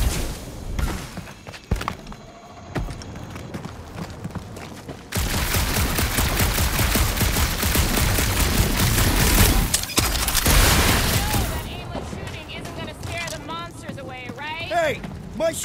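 Sustained gunfire from the Guardians of the Galaxy video game on PS5 forms a dense rattling fusillade of rapid shots and heavy thuds, loud and close, running under and between bursts of in-game character talk.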